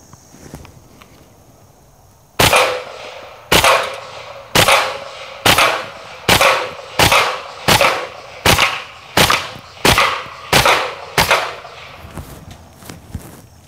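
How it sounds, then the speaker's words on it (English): Kriss Vector firing tracer rounds at a keg outdoors: about a dozen loud, sharp single shots at a steady, fairly quick pace, each followed by a short ringing decay, with no talking. "filled the gun up with tracer ammunition, and I'm hoping that as we shoot the keg, maybe we'll get to see some of those ricochets"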